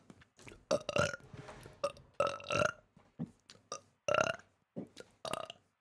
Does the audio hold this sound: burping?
yes